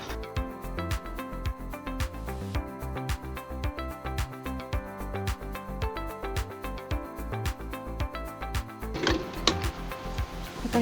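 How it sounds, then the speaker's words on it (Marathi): A sewing machine runs steadily, stitching the lining of a gown along the neckline with a rapid rhythmic mechanical clatter. The stitching continues throughout, close and clear, with a brief scraping of fabric handling near the end. "पहिले ही आपण अशी इथून शिवून घेणार आहोत गळ्याच्या बाजूने"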